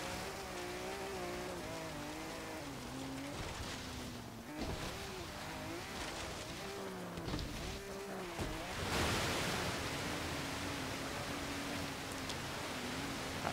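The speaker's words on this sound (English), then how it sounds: "Doing nearly 100 miles an hour in a car like this in the water is pretty damn good." A 2005 BMW M3 tears through water at nearly 100 mph in Forza Horizon 3, its engine droning steadily with shifting pitch while a rushing splash and wash of water swells and surges around it.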